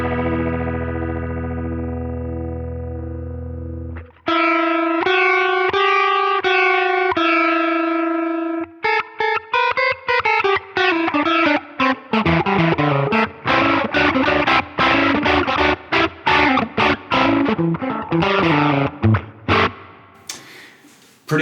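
Electric guitar through a Line 6 Helix chorus-style modulation effect at extreme depth settings: a sustained chord, then choppy strummed chords and rapid stabs with heavy warbling pitch wobble, loud and alone.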